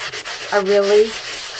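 A short burst of close, scratchy rubbing, like sandpaper worked briskly across a painted craft piece, with a faint tonal squeak in the middle.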